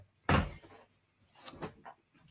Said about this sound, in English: Let me shut the door, guys.